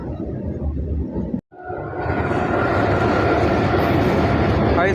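An electric WAG7 freight locomotive arriving at Mandhar railway station on a line near Raipur makes a loud, steady rolling rumble with a rising hiss. The sound cuts out briefly, then builds into a continuous roar close by.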